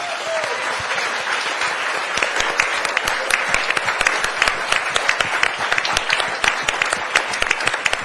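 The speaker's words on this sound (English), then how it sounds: "So give them a round of applause." An audience at a community gathering breaks into a sustained round of applause, dense clapping filling the room with sharper individual claps standing out, no talk over it.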